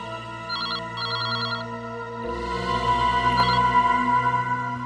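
A telephone rings indoors with bright electronic trilling bursts over a sustained tonal background that swells partway through, moderately loud and close.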